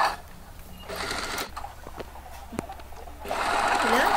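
Sewing machine stitching the folded half-inch edge of a men's kurta in short, quiet bursts, starting and stopping, with faint background sounds and a louder run at the end.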